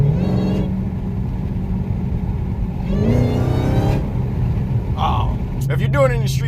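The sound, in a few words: Hellcat engine revving with new intake installed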